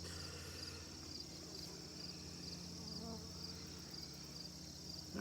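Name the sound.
bees buzzing around a hive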